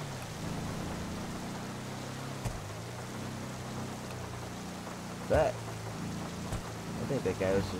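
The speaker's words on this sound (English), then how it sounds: "It's wet out, like dogs, raining." Steady rain falls on a wet day outside a vehicle with the windows up, a dense continuous hiss over low rumble, broken by a few brief knocks.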